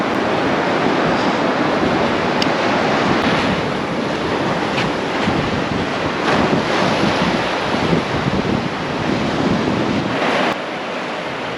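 Sea waves washing in over bare feet at the shore on a coastal trek near Konark, a steady loud wash of surf with heavy wind buffeting throughout, no voices.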